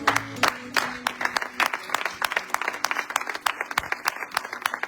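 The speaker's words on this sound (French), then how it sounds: "nous acclamons très fort le Seigneur" Church congregation clapping and acclaiming the Lord, a quick run of loud, sharp handclaps that starts as a dense burst and thins into irregular claps, with voices briefly underneath.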